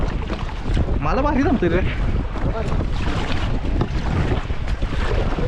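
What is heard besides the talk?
motorboat on the water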